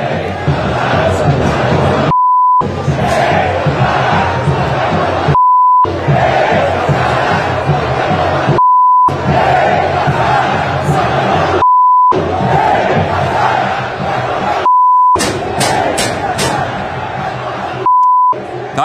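Football stadium crowd chanting insults at the São Paulo club president, a loud massed roar of voices with the chant repeatedly cut by censor beeps at regular intervals.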